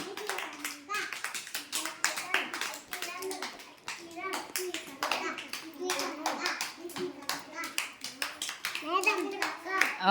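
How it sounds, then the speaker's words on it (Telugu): Children clapping in a classroom during a pencil drawing lesson, rapid irregular claps that continue nonstop under children's voices chattering throughout. "క్లాప్స్ బాగా కొట్టాలి"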